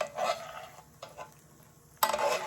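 An egg fries in hot fat while fat is spooned over the whites, producing a soft, close sizzle broken by light scrapes and clinks of a spoon against the pan.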